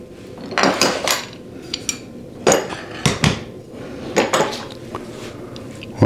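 Aluminum C clamps clank and clatter as they are handled, several sharp metallic knocks in clusters with short pauses between, close and fairly loud, with no talk over them.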